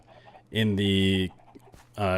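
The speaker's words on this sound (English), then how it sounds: "And we got a lot of chickens in here." Minecraft chickens clucking in a crowded chicken yard, two loud, close, tonal clucks, the second cut off at the end.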